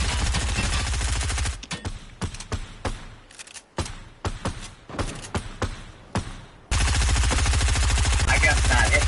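Rapid automatic gunfire from a gun in Fortnite, loud dense bursts at the start and end with sparser scattered shots and thuds between, no talk over it.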